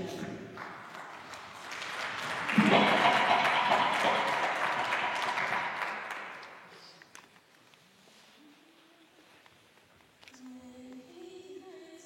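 Applause fills a funeral gathering in Belgium, a dense wash of clapping that swells around the third second and then fades away by about seven seconds. Quieter music and scattered sounds follow.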